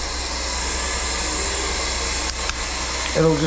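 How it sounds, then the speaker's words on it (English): A hot air vinyl welder runs steadily as it heats up, giving a loud, continuous blowing hiss with a faint hum beneath and a brief shift near the end. "Very important to allow your welder to heat up prior to you installing your weld rod."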